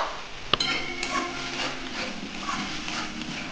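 Boiled, fried potatoes drop into a pan of spiced curry with one sharp clatter, followed by softer scraping, light clinks and low sizzling close by.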